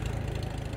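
A 58-year-old farm tractor runs steadily, its engine chugging in a brief, low, even idle close by with no other sounds.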